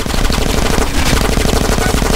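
A minigun fires in GTA San Andreas, a continuous rapid mechanical roar of shots with an even rhythm that runs loud and close for the whole stretch.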